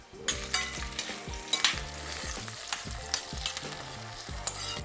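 Mushrooms added to caramelised onions in a hot pan, frying with a steady crackling sizzle while a utensil stirs and scrapes repeatedly, close and continuous with no voices.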